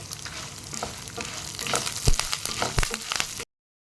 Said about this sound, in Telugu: ఇవి వేగిపోయినాయి పక్కన పెట్టుకోవాలి